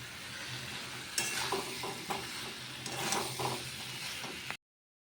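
Vegetables and potato fry in oil with black cumin and bay leaf, giving a moderate hiss broken by irregular utensil clacks and stirring scrapes, then cutting to silence.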